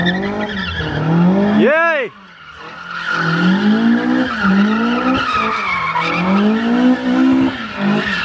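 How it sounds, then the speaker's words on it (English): Car tyres squeal and skid in long wavering sweeps as a car is thrown into drifts, loud and close, with a brief engine rev drop midway and a voice cheering once. "I've done many skids in this car."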